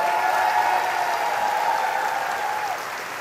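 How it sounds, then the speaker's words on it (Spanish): Church congregation at a homily applauds in a steady, even roar of many hands, full and continuous before easing slightly at the end, with a faint sustained tone beneath. "No hay aplausos para el Señor."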